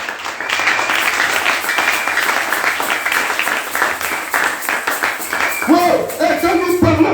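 Church congregation applauding during a service, a steady wash of clapping that runs throughout, with a voice briefly rising near the end.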